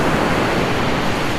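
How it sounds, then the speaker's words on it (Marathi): Ocean waves break on the seashore in a steady, dense roar of surf that fills the whole moment, with no voices. "खूप छान लाटा गाईज, तुम्हाला लाटांचा आवाज येत असेल"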